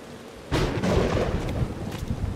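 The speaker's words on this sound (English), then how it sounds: "I just wish it wasn't raining." Rain and rolling thunder in the video game Submerged: Hidden Depths: a steady rain hiss, then a loud, low thunder rumble breaks in and sustains near and heavy over the downpour, with no voices.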